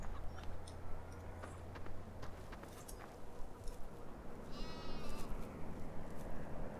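Sheep bleat in a Farming Simulator game on the Green River map, a few short calls rising over a soft, low background hum, fairly faint and with no talk.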